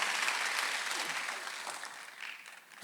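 Congregation applauding during a Sunday worship service at a Korean church, a fairly soft, steady wash of many hands clapping that thins slightly toward the end, heard from a distance in a large room.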